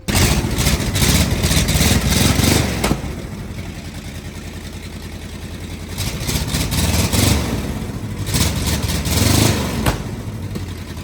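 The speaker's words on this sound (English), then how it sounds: "we'll get to hear it and listen to if it has any major exhaust leaks" A 1974 AMC Javelin engine runs while being checked for exhaust leaks, a loud close rumbling idle with a few brief revs rising and falling, continuous throughout with no talk.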